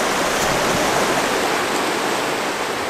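River rapids at Whiskey Rapids, a loud, dense, unbroken roar of rushing water heard up close and filling the whole stretch.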